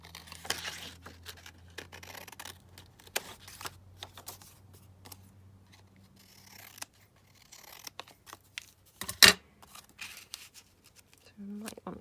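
Scissors snip through paper while a paper building shape is cut out by hand, close-up irregular bursts of crisp cuts with rustling between them, and a person talks quietly at times.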